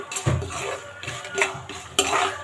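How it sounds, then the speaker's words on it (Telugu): Peanuts and dals being stirred and roasted in a pan, with a few distinct scraping, clinking strokes of a spoon against metal, close and moderately loud. "ఇప్పుడు ఇవన్నీ బాగా వేపుకుందాము"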